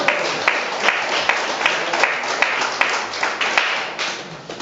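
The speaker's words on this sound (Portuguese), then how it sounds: "Palmas para o Senhor Jesus" A church congregation claims for Jesus, loud rhythmic clapping in unison with sharp regular beats, close and sustained throughout with no voices over it.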